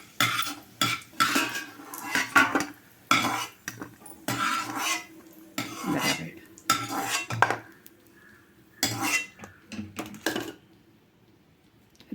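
Whole cashews roast in ghee in a pan over low heat, heard as intermittent metal scraping and clinking of a spoon against the pan in short bursts with quiet gaps between, faint sizzle underneath, no talking.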